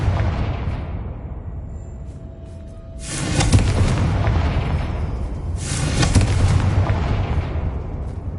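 Confringo spell explosions in the Hogwarts Legacy video game boom twice, each a loud, broad blast that swells and rolls off slowly over a steady rumbling backdrop.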